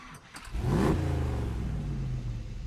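Chevrolet car engine starting up in the Roblox-style driving game Driving Empire: a quick cranking catch, then a loud rev that settles into a steady, rumbling idle, close and without talk.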